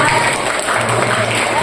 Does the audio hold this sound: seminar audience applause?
yes